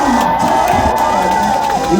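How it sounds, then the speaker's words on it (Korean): A crowd at a Korean live music festival stage cheers and shouts continuously, a loud dense roar of many voices held steady for the short span. "형도 박수 보내주시죠"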